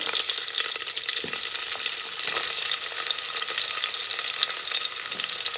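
Onion frying in ghee with cloves and cardamom in a pan for veg pulao, a steady, dense sizzle that stays loud and continuous throughout, with faint scraping stirs now and then and no talking.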